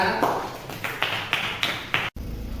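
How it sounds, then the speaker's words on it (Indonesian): A classroom of students claps in short, sharp bursts, several loud pulses of applause close by that end abruptly. "beri tepuk tangan kawan-kawan ya"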